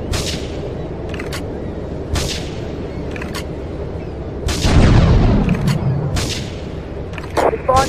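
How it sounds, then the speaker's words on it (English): Scattered gunshots and a heavier explosive boom from the GTA video game, with sharp cracks recurring every second or two and a louder burst midway, under continuous background game noise. "Investigate reports of gunfire and explosions."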